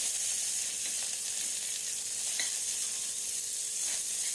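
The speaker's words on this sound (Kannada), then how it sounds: "ಮತ್ತು ಈರುಳ್ಳಿ ಹಾಕ್ಕೋತಾ ಇದ್ದೀನಿ ನೋಡಿ." Onions dropped into hot tempering oil with garlic give a steady, close sizzling hiss with soft stirring, continuous and fairly quiet.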